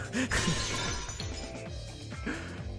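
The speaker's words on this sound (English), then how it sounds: "The sound of breaking glass is accompanied by a light cutting through the gloom." Glass shatters in the Fate/Extra video game, a loud, dense burst of breaking fragments spread across a few seconds over layered game music and effects.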